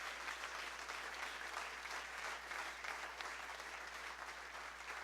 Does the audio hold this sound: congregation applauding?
yes